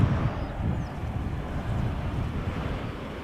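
A TUI Boeing 787 Dreamliner arriving at Schiphol Airport from Willemstad, Curaçao, gives a steady, distant broadband roar mixed with wind buffeting on the microphone. The roar holds at an even level throughout, and no one speaks.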